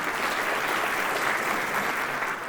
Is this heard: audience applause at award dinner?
yes